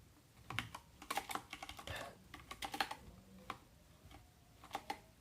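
Rapid, uneven typing on the keyboard of a Surface Laptop 7, with clusters of sharp, close key clicks and brief pauses between bursts, and no voice.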